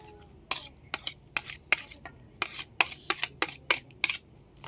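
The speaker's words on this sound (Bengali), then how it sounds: "এবার বেলটা দিয়ে দেবো" Ripe bael fruit pulp being scraped into an ice cream mixture: a series of quick, sharp spoon scrapes and clinks against a bowl, close and irregular, about a dozen strokes with small pauses between.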